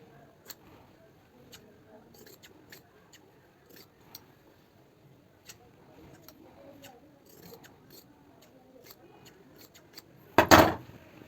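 Scissors cut a fabric strip for the back neck of a kurti, heard as faint, evenly spaced snips over quiet room sound, ending with one louder, sharp crunching cut near the close.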